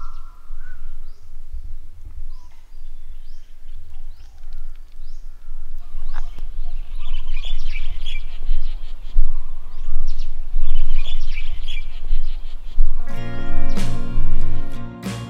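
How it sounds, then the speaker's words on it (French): Birds chirp in the jungle surrounding the Sukhothai ruins in Thailand, with scattered, moderately distant calls over steady outdoor ambience, ending abruptly in a loud sustained tonal hum. "Ils sont vraiment au milieu de la jungle avec le bruit des oiseaux."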